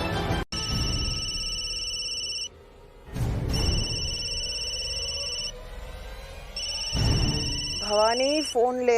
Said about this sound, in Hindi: भवानी फोन ले।